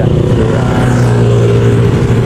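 Big bike motorcycle engine revving up close on a ride to Tarias Falls, a loud, continuous throaty drone with a strong low rumble that stays steady throughout.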